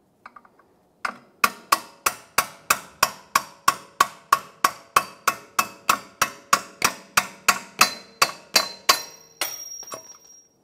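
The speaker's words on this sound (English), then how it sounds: "Now we'll just give it a couple loving bonks with our hammer" A hammer strikes a nut during a front coil spring replacement on a Jeep Wrangler, in a steady series of about twenty sharp, ringing taps, evenly spaced and close, with a brief pause at the start.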